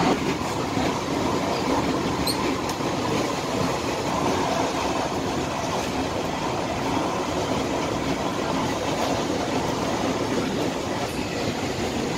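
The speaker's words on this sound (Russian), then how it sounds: "Очень быстро поезд идет" Steady loud rumble and roar heard from aboard a fast-moving train in Tuscany, Italy, continuous rail noise with faint clatter and no talk.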